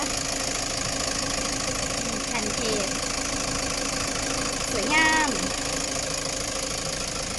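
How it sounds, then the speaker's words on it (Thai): A 2018 Toyota Commuter 3.0 van engine idles with a steady, even hum throughout, a faint tonal whine briefly rising near the end. "เสียงเครื่อง เพราะเลย"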